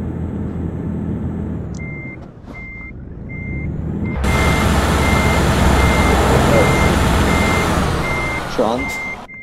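A Mercedes New Actros truck in Euro Truck Simulator 2 with the differential lock engaged revs hard, its engine roar swelling and holding loud while steady reversing beeps repeat throughout; someone speaks briefly near the start.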